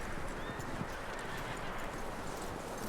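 Horse hooves clip-clop in snowy Red Dead Redemption 2 gameplay, with a neigh amid a dense, steady game soundscape, quiet and continuous with no talking.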